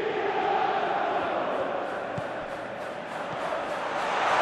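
Football crowd in a PES video game during an Inter Milan vs Arsenal Champions League match, a broad sustained roar of chanting fans that swells gently, with no clear commentary on top.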